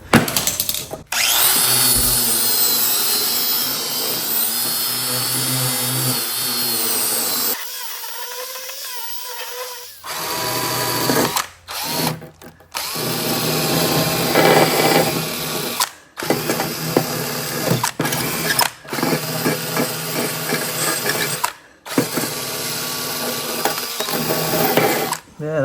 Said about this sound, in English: Just gonna grind it here.